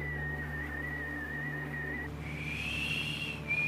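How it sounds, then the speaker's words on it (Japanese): A steady, high whistled tune held in long wavering notes, rising to a higher pitch midway, over a low droning background, in the anime JoJo's Bizarre Adventure: Stone Ocean. "悪いんだがその口笛やめてくれないか。"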